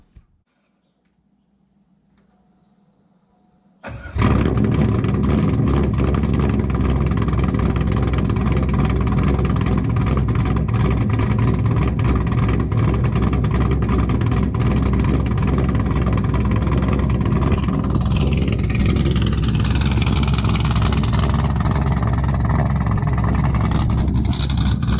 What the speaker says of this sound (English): So let's get you guys a cold start